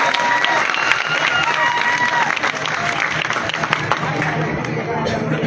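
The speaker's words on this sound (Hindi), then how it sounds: "एक बार फिर से दोनों हाथ ऊपर करके ताली बजा के समर्थन देंगे।" A crowd at a political rally claps loudly and continuously, dense sharp hand claps filling the space with some cheering and murmuring voices mixed in.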